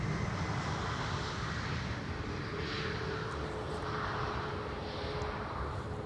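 Aircraft engine roar of a plane arriving on Schiphol runway 18R, a steady broad rumble held at even loudness throughout, with no voices.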